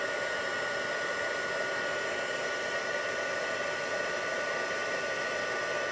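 A heat gun blows a steady, loud, even whoosh while heat embossing snowflakes onto a card, running unbroken and alone throughout.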